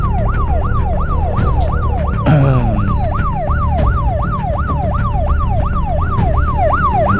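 Ambulance siren wailing loudly and close in a rapid repeating up-down sweep, with vehicle noise underneath and a brief sharp burst partway through, no talk.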